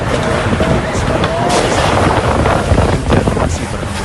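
A strong wind storm roars at the Grand Mosque in Mecca, buffeting the microphone with heavy, continuous gusting rumble and broadband rushing noise over worshippers performing tawaf, steady and loud throughout.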